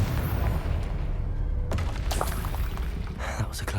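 Confringo fire curses bursting during Hogwarts Legacy combat on PS5: a dense, rumbling boom and crackling impacts over continuous game noise, with a sharp burst near the middle and further hits toward the end, with voices talking over it.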